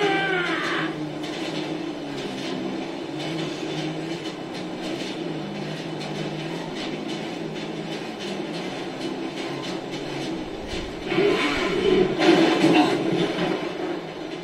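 A train rolls along in GTA 5, a steady rumbling clatter of wagons on rails that swells louder near the end, with no talk over it.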